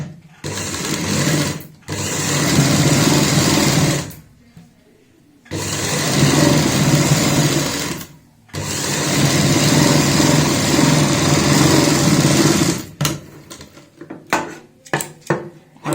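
Sewing machine stitching palazzo trouser fabric, a loud rapid mechanical whir in three long runs separated by brief pauses, ending with a few short bursts.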